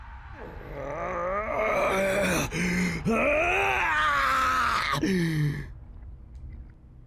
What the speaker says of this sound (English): His screams pierce the air.